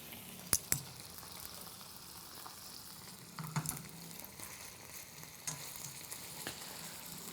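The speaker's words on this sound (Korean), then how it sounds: "이렇게 굽는 소리가 나기 시작하면은 잘 팬 위에다가 올리셔서 올리브 오일을 잘 돌려볼게요." Chicken breast sizzles in a pan with olive oil in a salad-shop kitchen, a soft, steady crackle with a few sharp pops and clinks, fairly quiet and with no talk over it.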